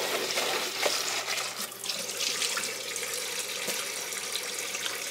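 Tap water runs steadily into a sink while something is rinsed under it, a continuous close splashing hiss with small shifts in the flow and no voices.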